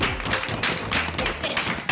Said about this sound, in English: Let's give a round of applause for number three.